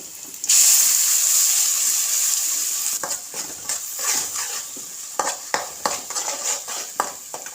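Ground coconut masala paste hits a hot pan with a loud, sustained sizzle, then the hiss fades into a series of scraping stirs in an egg curry.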